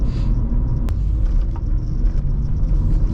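Honda Civic EP2 moving in gear during a shift from third to fourth, with a steady low engine and road rumble inside the cabin and one sharp click near the start. No one speaks.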